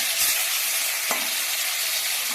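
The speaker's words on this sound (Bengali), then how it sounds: "প্রথমে ডিমওয়ালা মাছগুলো ভেজে নিচ্ছি।" Hilsa fish pieces with roe frying in a pan give a steady, close broadband sizzle, with one short sharp tick near the middle and no talking.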